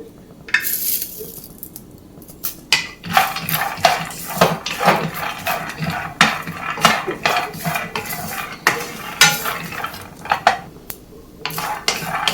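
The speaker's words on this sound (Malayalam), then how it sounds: "നിലക്കടലയുടെ കൂടെ നമുക്ക് കുറച്ച് കറിവേപ്പിലയും കൂടെ ചേർത്ത് കൊടുക്കാം." Peanuts roasting with dried curry leaves in a pan, stirred with a metal spoon that gives frequent loud scrapes and clinks against the pan, uneven and close, with no talk.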